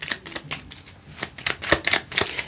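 Tarot cards are shuffled up close in a quick, irregular run of soft flicks and riffles, with no talking.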